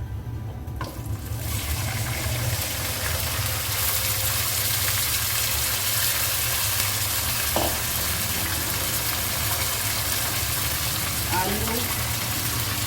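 Cauliflower and potato for gobi aloo hit hot oil with toasted cumin, sending up a steady, close sizzle and frying hiss that runs unbroken, with a brief stir or clatter partway through.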